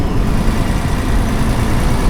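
Engine of a Volvo F16 intercooler truck on the road with stock exhaust, a steady low rumble droning loudly and evenly throughout, with no voices.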